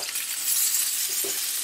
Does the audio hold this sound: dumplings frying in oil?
yes